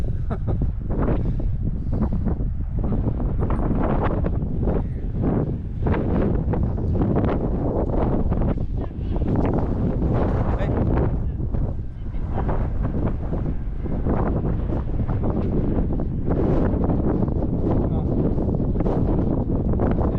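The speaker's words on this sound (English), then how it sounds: "It's quite windy, isn't it?" Steady, loud wind buffets the microphone throughout, a constant roaring rush with gusty surges, while a voice talks intermittently underneath.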